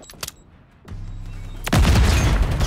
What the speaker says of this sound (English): I fucking threw that damn bomb, bro.